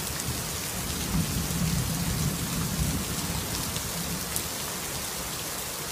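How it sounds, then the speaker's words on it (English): Thunder rumbling through a steady downpour during a rainstorm, a low swelling roll rising in the first seconds over the constant hiss of heavy rain, with no voices. "I just love the thunder."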